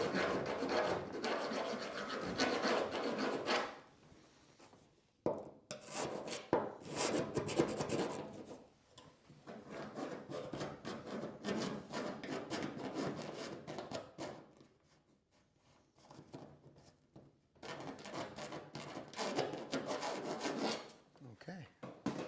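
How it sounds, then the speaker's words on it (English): A rat tail file rasps over the sharp edges of a drilled hole in a boat part, repeated scraping strokes in bursts with short pauses between, close and fairly quiet. "Grab my rat tail file and just take the sharp edges off this thing."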